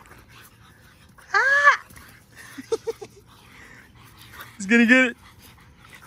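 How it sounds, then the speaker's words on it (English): Excited French bulldogs whimper, wheeze and pant nearby, with short high whines and snuffling bursts separated by quieter breathing, while someone speaks briefly. "Look at my other dogs going crazy"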